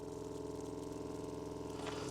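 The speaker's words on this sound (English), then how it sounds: "And here you can hear the pump going off." The small pump of a Geyser shower kit in a camper or van setup runs with a faint, steady pulsing hum that ends in a brief watery splutter, with no voices.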